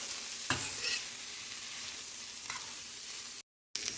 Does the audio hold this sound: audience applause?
no